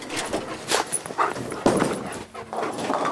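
A trained explosive-detection dog works through a busy bowling alley. Its sniffs and a few short yips or whimpers come through close by, set against loud venue clatter and thumps and faint background chatter.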